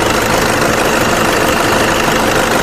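A Toyota Innova V with a 2011 intercooler diesel engine idles steadily and loudly up close, a continuous even rumble with a light knocking texture and no voices.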